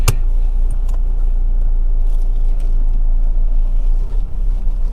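A new car drives along with its engine running as a steady, loud low rumble and road noise throughout, with a brief knock at the start and a slight dip near the end.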